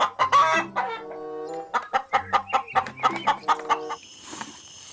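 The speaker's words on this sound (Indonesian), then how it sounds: "ini adalah seekor ayam" A chicken clucks close up in a rapid series of short, rhythmic calls, ending with a squawk, loud against a quiet background.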